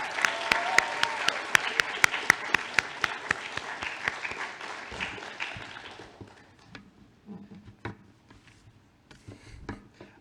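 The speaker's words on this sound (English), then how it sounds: "A massive round of applause for all the winners." An audience claps for volunteering award winners, a lively round of applause with sharp individual claps that thins out after about six seconds into scattered, fading claps and room noise.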